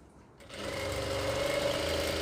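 Sewing machine stitching a kurti sleeve, starting after a brief quiet moment into a steady, fast mechanical whir with a rapid needle rhythm, close and continuous to the end.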